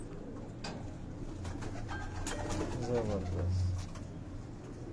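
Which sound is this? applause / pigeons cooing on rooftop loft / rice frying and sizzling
pigeons cooing on rooftop loft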